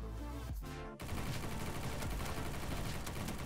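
Gunfire in the Christmas-themed video game Bad Business, a tonal game sound cut off by a sudden dense burst of rapid automatic shots that keeps going loud and continuous to the end.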